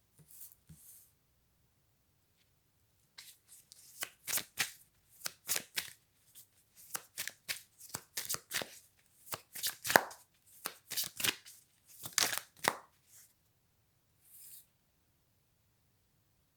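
Playing cards are handled and shuffled for a card reading, with dry riffling and tapping bursts arriving in irregular clusters, close and crisp against a silent background, with no talking.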